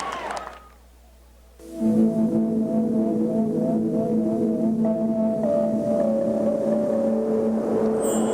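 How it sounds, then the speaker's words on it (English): A 1982 Yamaha Vision motorcycle with a water-cooled V-twin engine and shaft drive revs in a TV commercial; after a brief hush, the engine settles into a loud, steady, humming drone that holds to the end. "The new Yamaha Vision. Water-cooled V-twin engine."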